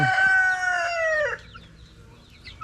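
One-month-old chicks moved into a small outdoor range give a single drawn-out, tonal crowing-like call lasting over a second, fairly close and clear, followed by quiet background with faint chirps.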